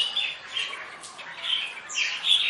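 A red-whiskered bulbul kept as a tame decoy bird gives repeated harsh, squawking calls in several bursts with short gaps between them, clear and near, against a quiet background.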